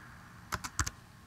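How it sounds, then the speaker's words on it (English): A few quick key clicks on a Mac keyboard while text is entered into a Microsoft Word document, four close, crisp taps in a short burst over a quiet background. "I can start typing things in if I wanted to."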